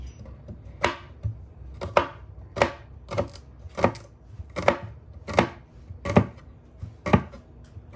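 Garlic being chopped with a knife on a cutting board, about ten crisp, evenly spaced knocks roughly a second apart, close and clear with no talk.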